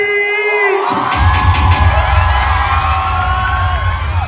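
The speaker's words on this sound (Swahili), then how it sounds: "Wapi makofi ya baby?" Crowd at a Kabugi's Smiles Caravan comedy show erupts into loud, dense cheering, whooping and applause that builds after a brief quieter opening and carries on steadily to the end.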